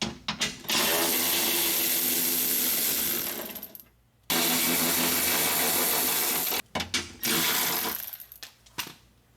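Bolts are removed from a Honda Odyssey window motor and regulator with a power tool in two loud, sustained whirring bursts, followed by short rattling and ratcheting bits, close up.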